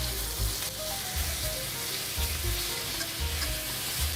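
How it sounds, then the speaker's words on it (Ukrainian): Chicken liver fries in a pan until lightly crusted, a soft continuous sizzle with low rhythmic thuds and faint stirring, heard close with no speech. "Ось до такої скоринки потрібно обжарити печінку, перевертаємо всю."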